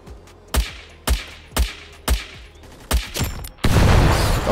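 Gunfire in the video game Blackhawk Rescue Mission 5 during a skirmish match: six loud, evenly spaced booming shots about half a second apart, then a dense rush of rapid fire that fills the final second.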